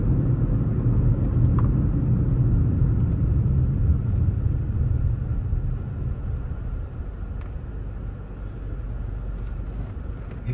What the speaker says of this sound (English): Look at all the traffic on the right going back into the town